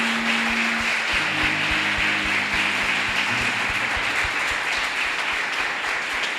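A church congregation at an evangelical worship service breaks into sustained applause, dense steady clapping filling the hall throughout, with a low musical tone briefly audible underneath.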